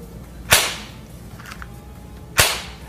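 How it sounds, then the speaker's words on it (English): A ring box snaps shut with a little force, giving two crisp, sharp clacks about two seconds apart with quiet in between. "shut it with a little force like this. And you would hear the sound it's making is very crisp"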